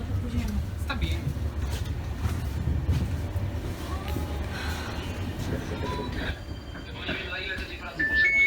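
Inside a moving train in Poland, a low continuous rolling rumble fills the carriage, with faint metallic squeals and murmuring voices in the background and louder noise near the end.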